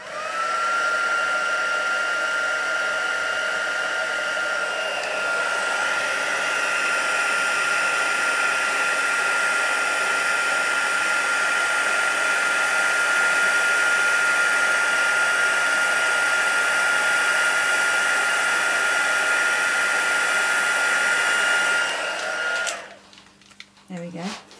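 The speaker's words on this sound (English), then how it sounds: "I'm going to use my heat tool now" A heat embossing tool blows a steady, loud whirring hiss for over twenty seconds while melting embossing powder on a handmade Christmas card, then clicks off near the end.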